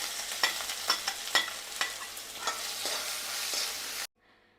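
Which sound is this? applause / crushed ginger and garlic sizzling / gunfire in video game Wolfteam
crushed ginger and garlic sizzling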